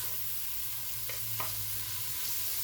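Onions sauté in a pan, giving a constant soft sizzling hiss with a couple of faint clinks from utensils partway through.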